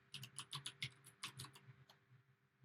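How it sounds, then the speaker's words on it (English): Fingers tap out a quick, irregular burst of keystrokes on a computer keyboard, a soft clicking flurry that tapers off near the end, with no talking. "I could start typing."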